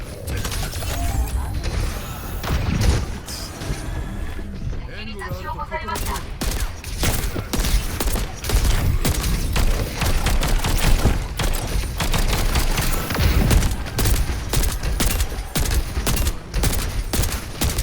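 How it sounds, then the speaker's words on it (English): Video game gunfire from an Overwatch match, with dense, rapid automatic shots and mechanical clatter running continuously, loud and close, under a voice talking at times. "You're spending so much time shooting at the tank."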